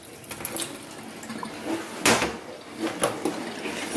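Water poured out of a stuck coffee machine runs and splashes into a sink in a few short bursts, loudest around the middle, with light clatter in between.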